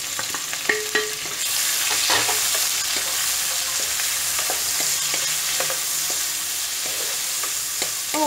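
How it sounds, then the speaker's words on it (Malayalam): Ivy gourd frying in a pan gives a steady, close sizzle. A utensil stirring the pieces adds scattered clicks and scrapes against the pan throughout, with no voices. "ഇനി നമുക്കിത് നന്നായിട്ടൊന്ന് ഫ്രൈ ചെയ്യണം"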